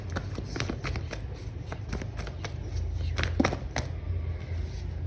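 Tarot cards are shuffled and drawn close by, giving soft riffling and flicking bursts over a steady low background hum.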